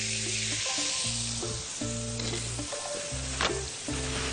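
Butter sizzles and fries steadily on a grilled beef fillet, a loud close crackling hiss with a few soft clinks, heard alone without talk.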